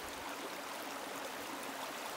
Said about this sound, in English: So I've just recorded the sound of water.